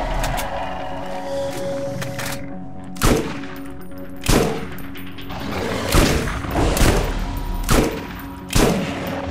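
Shotgun blasts in a video game, about six loud, sharp reports fired at irregular intervals over a steady mechanical background hum.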